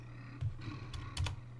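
Keys are pressed on a computer keyboard in two short bursts, a quick pair of taps and then a second cluster, quiet and close over a low steady hum.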